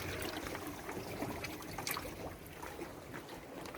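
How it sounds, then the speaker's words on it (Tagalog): Sea water washes over a beach at high tide, making a continuous, close trickle and splash of moving water with small bubbling bursts. The sound stays at an even level throughout. "Oh, it's the water."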